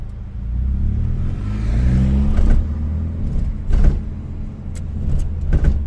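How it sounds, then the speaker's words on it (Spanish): A car adapted for drivers with disabilities accelerates in second gear, its low engine note holding steady and rising with a few brief mechanical knocks and clicks over nearly six seconds, with no talk. "aquí va acelerando"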